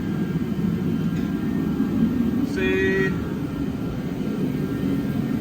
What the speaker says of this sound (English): Got the Peter Heater 1000 revved up.